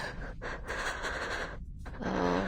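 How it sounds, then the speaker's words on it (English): Heavy, gasping breaths from a character in the video game Reverse: 1999, a close run of loud ragged inhales and exhales broken by brief pauses, with no talk over them. "Oh my god, the heavy breathing."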